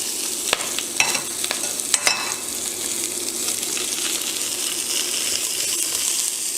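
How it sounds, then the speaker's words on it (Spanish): Vegetables sautéing in a hot pan for ramen, a loud, continuous sizzle broken by sharp clinks and scrapes from a utensil in the first two seconds, close up with no voices. "y vamos a agregar las verduras. Las vamos a sofreír igual,"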